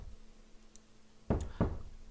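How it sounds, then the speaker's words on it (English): A knock at the door in the visual novel Chaos;Child, two firm, close raps about a third of a second apart, heard alone against a quiet, faintly humming background. "There was a knock at the door."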